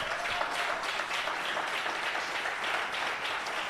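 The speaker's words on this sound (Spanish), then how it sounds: "Si va a aplaudir, hágalo fuerte." A congregation applauds loudly at a church gathering, a dense, steady wash of many hands clapping that fills the whole stretch at an even level, with no talk over it.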